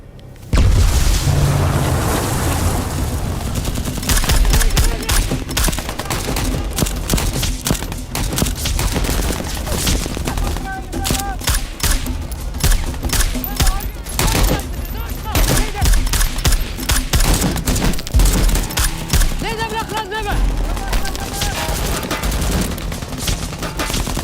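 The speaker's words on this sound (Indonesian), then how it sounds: "Detonator bom ditekan dan inilah yang kemudian terjadi." A bomb detonation in a war film scene attacking an ISIS convoy, followed by dense, continuous gunfire and booming blasts that stay loud and unbroken for the whole stretch, with no voices over the battle noise.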